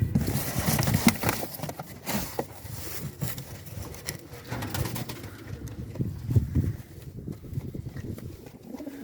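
Pigeons coo softly amid rustling and flutter, with some scattered clatter; no one speaks.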